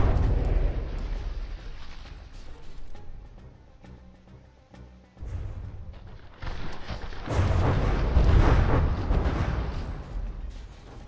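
Naval guns on warships in the game From the Depths fire high-arcing shells, producing a continuous rumble of heavy booms and blasts that swell and thin out over the stretch.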